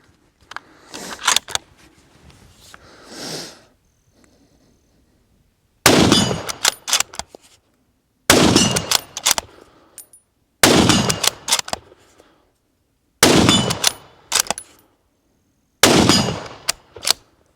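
Six sharp, loud rifle shots from a Sako 90 Finnlight in .308 firing Hornady ELD-X 178-grain rounds ring out one at a time, spaced a few seconds apart, each with a short echoing tail and silence between.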